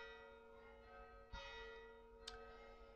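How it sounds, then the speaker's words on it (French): Church bells ring faintly and steadily in the distance, their sustained tones layered and droning, with a couple of soft knocks along the way. "ça n'en finit plus ces cloches"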